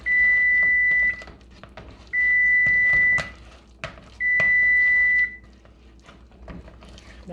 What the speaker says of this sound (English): That is my timer for my chili, so I'm just going to stir it a little bit.